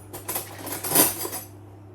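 Cutlery clinks and rattles as a clean knife is pulled from a kitchen drawer while a birthday cake is being baked; several short, light metallic clatters close by over about a second and a half, with no talking.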